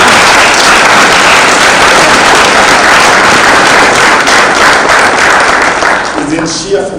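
An audience at a panel discussion on the creative economy breaks into loud, sustained applause, a dense wash of clapping that carries steadily before thinning out at the end, with a few voices under it.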